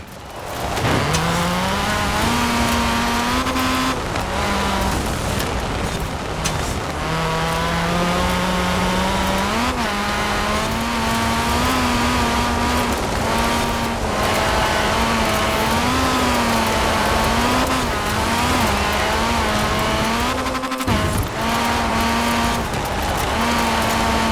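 A 1990 Nissan Pulsar AWD rally car races in Forza Horizon 4, its engine droning loudly and steadily, rising and falling with revs and gear changes, with occasional brief dips and no speech.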